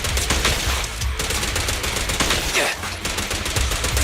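Rapid gunfire in the Zenless Zone Zero video game crackles in dense, continuous volleys, loud and busy, with a brief sweeping effect partway through and no clear talking.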